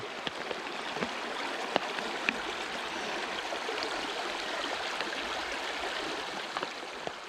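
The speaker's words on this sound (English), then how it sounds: "It's a very murky looking stream," Steady rushing and trickling of a murky stream flowing, constant and moderately close, with occasional small splashes and clicks.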